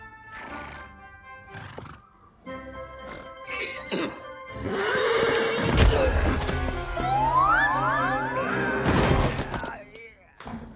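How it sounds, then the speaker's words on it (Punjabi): A horse neighs and whinnies loudly, with a long descending whinny near the end, amid thuds and hoof sounds and some talking in the background, in the animated film Dastaan-E-Miri Piri. "ਕਿੱਥੋਂ ਫੜ ਲਿਆ ਓ ਇਸ ਘੋੜੇ ਨੂੰ"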